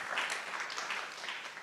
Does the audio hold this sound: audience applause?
yes